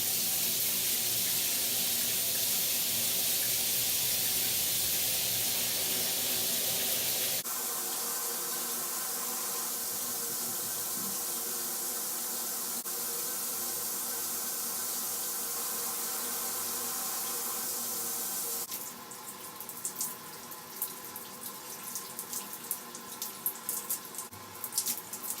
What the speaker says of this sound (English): So it's just gonna hop in the shower.